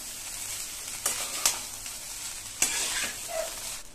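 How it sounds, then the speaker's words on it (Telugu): Egg fried rice is stirred and tossed in a sizzling pan, with a steady fry hiss and a few sharp utensil scrapes against the metal, up close and without speech. "నెమ్మదిగా ఇలా మిక్స్ చేసుకోవాలన్నమాట అండి."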